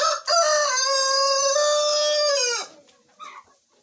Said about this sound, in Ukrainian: Ось голошия, курочка